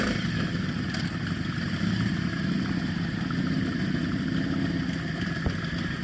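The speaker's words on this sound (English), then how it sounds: "I was probably the last one to start my bike up." Motorcycles running at a group bike night in downtown Toronto, a steady low engine rumble with idling and light revving throughout, no talk.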